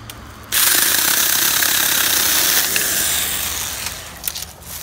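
A Saker mini electric chainsaw starts abruptly and cuts into wood, a loud, steady, close buzzing whine that holds for a few seconds before easing off with small bumps as the cut ends.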